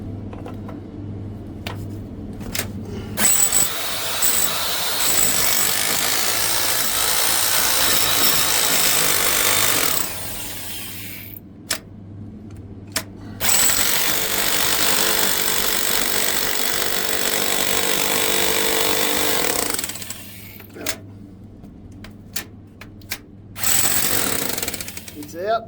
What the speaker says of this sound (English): let's get the jackhammer out.